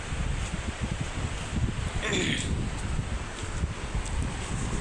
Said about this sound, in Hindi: सुबह एकदम ठंडी हवा चल रही है, मस्त मस्त।